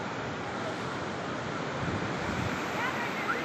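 Sea surf rolling onto Astaranga beach on the Odisha coast, a steady, dense wash of breaking waves with wind buffeting the microphone, continuous and fairly loud throughout with no talk.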